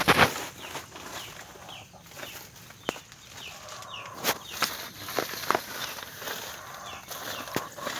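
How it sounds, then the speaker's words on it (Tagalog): Chickens cluck intermittently in the background amid outdoor rural yard noise and scattered footsteps, with no talking. "May mga alaga rin siya mga manok."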